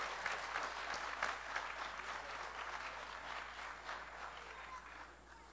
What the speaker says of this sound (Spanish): Un fuerte aplauso para don Matías Palomino Cruz.